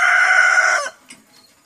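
A rooster in a backyard chicken flock lets out one loud, close crow that holds for nearly a second before cutting off, followed by quiet with faint clucks.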